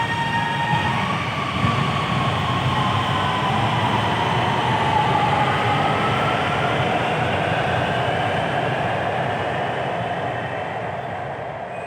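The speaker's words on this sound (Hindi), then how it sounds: "मेरे पीछे आपको ऑरेंज ट्रेन दिखाई दे रही है" The Orange Line metro train in Lahore, a loud continuous rumble of a moving train with faint rising whine and rail noise, steady throughout and easing slightly near the end, no talking.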